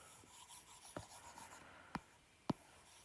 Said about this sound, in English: rub this bit out.